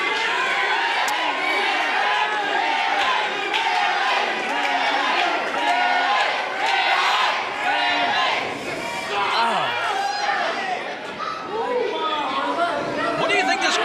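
Pro wrestling arena crowd at a Hysteria 101 Reloaded 2020 event, a loud dense roar of chatter and shouting that fills the whole stretch without pause, the boos blended into the general crowd noise.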